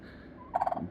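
A pet turkey at home gobbles in a short rapid burst of several warbling pulses, moderately close, with no talk over it.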